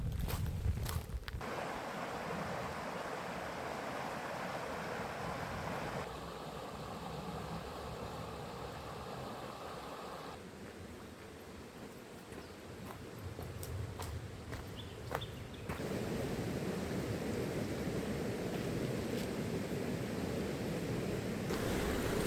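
Little Dandahra Creek flowing beside a spring bush walking track, a steady soft wash of running water with faint bird calls and occasional wind, heard alone without talk.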